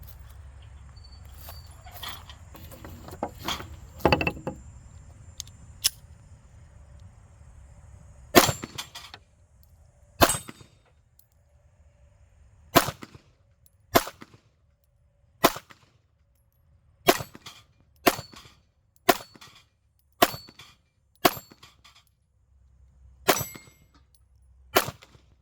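Smith and Wesson Shield Plus pistol firing about a dozen sharp, loud shots, spaced roughly a second apart with short pauses between groups, after a few seconds of quieter handling noise.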